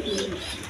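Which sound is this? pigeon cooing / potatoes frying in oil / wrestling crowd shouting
pigeon cooing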